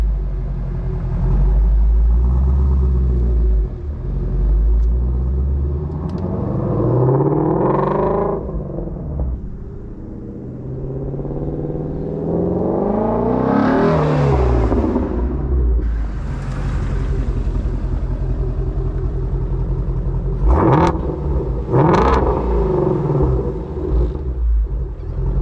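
A 2017 Ford Shelby GT350 driving, its engine rumbling low and deep, then revving up in several rising sweeps with gear changes between them, loud and close throughout.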